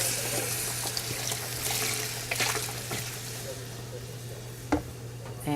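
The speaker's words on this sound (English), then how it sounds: "just add a whole thing of beef broth" A whole carton of beef broth poured into a soup pot, a steady liquid splash and gurgle under a low hum, with a voice briefly talking over it.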